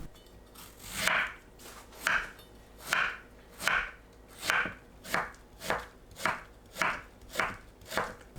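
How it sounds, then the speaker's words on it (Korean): A knife cuts nectarines into thin julienne strips on a cutting board, about a dozen evenly spaced slicing strokes that land close and clear in a steady rhythm, with no speech. "천도복숭아는 씨 제거하고 채 썰어 주세요"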